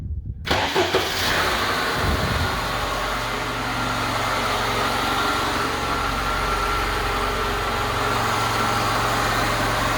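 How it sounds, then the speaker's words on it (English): Lada Niva engine after an alternator replacement, a brief crank that catches quickly and settles into a loud, steady low idle close by for the rest of the stretch, with no talking. "And now you can try to crank it."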